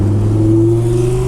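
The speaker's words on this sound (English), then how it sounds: "the exhaust I opted for was the Rev 9 stainless steel exhaust" An Audi R8 engine revving through an aftermarket Rev 9 stainless steel exhaust, a steady droning hum with a slowly rising pitch, close and loud.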